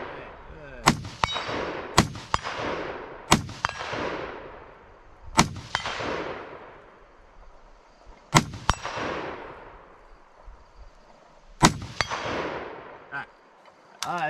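Rifle shots ring out at intervals of a few seconds, each sharp crack followed by a metallic clang from hanging steel targets, about eight strikes with echoing decay, heard outdoors at moderate distance.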